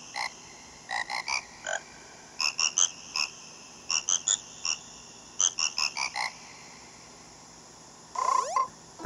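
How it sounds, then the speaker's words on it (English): Frog choir from the Zelda Majora's Mask 3D video game: clusters of bright, pitched croaking notes come in quick rhythmic bursts, like a sung melody, over a steady soft background, with a final sweeping flourish. "Time to do the good old frog choir."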